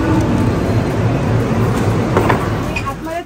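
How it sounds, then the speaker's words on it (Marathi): A passenger train begins to roll, a steady low rumble with broadband clatter filling the whole stretch, muffled voices mixed in beneath it. "आतमध्ये चढणार आणि ट्रेन मूव्ह झाली"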